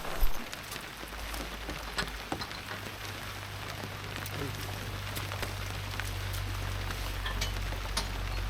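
Steady rain patters on a moored Drascombe Lugger sailing boat, an even hiss broken by scattered louder drop ticks, with a low constant hum underneath.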